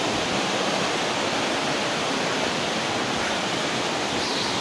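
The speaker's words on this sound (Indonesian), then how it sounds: "Air terjunnya bukan ini guys, jadi ini air terjun kecil ya." Small waterfall on a hiking trail to Curug Lawe in Ungaran, a steady broadband rush of falling water that fills the whole stretch, loud and close with no voices over it.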